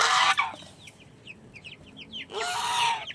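Hungry chicks being fed on a farm: many small high cheeps scattered throughout, fairly close, with louder adult chicken clucks and squawks bursting in at the start and again near the end.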